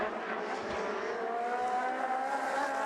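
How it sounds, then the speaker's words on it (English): Race cars on the Portimao circuit in a Trofeo Pirelli race, a steady loud engine roar as the field comes through with a rising whine, continuous and close, no talking. "As the rest of the cars come through, thankfully no further skirmishes, but Dario Carzo is fighting back"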